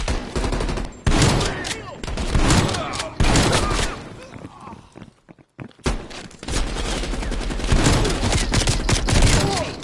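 Sustained automatic gunfire and bursts of shooting in a Call of Duty Black Ops Cold War firefight, loud and dense with a brief lull midway, with shouted voices mixed in.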